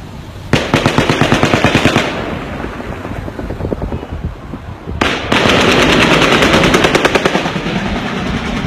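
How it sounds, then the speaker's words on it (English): Loud bursts of rapid automatic gunfire, a long rattling volley, a brief lull, then another sustained burst close by. "It sounds like automatic gunfire."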